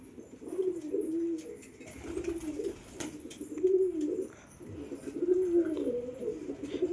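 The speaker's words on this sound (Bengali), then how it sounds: "সব গ্রিট খাচ্ছে দেখুন পাগলের মতন" Lotan pigeons coo in a repeated low, rolling rhythm while pecking at grit, several close calls rising and falling over about seven seconds with faint chirps and rustling, no talking.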